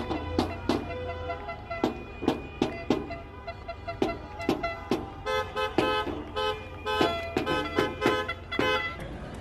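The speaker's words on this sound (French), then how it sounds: "désolé pour les klaxons" Car horns blaring repeatedly in a road convoy, a run of sharp honks in irregular rhythm, some long and some clipped short, loud and close with no talk.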